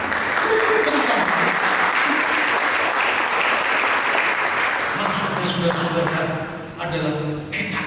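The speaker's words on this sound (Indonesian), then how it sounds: "Mari berikan tepuk tangan" A church congregation claps during a sermon, steady, loud applause from many hands filling the room for several seconds before thinning, with faint voices underneath near the end.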